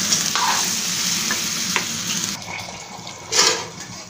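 Chicken curry frying in a pot hisses and sizzles steadily, with stirring scrapes and a brief bubbling splash as water goes in, the sizzle flaring loud again near the end.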